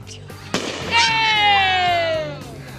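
A backyard Fourth of July firework goes off close by with a sharp pop, followed by a loud, long whistling screech that slowly falls in pitch, while people talk nearby.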